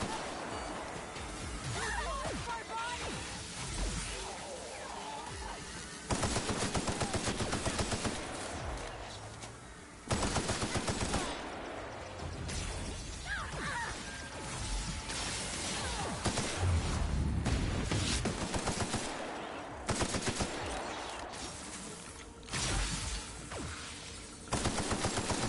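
Weapons firing in The Outer Worlds, dense bursts of rapid automatic gunfire and heavy impacts in repeated loud volleys separated by short lulls, with game noise and occasional speech mixed in.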